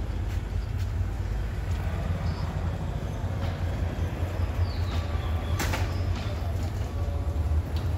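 Ambience at Sylhet railway station, set among greenery, with a steady low train rumble and clatter of rail cars, a brief sharp knock midway, continuous and fairly close, with faint voices in the background.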